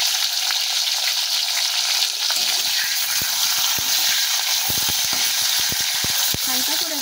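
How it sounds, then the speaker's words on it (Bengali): Chopped capsicum with a little salt frying in a pan after potatoes, a loud continuous hissing sizzle with clattering stirring clicks toward the end, up close and without speech. "হালকা করে একটু ভেজে নেবো আমরা ক্যাপসিকামগুলোকে"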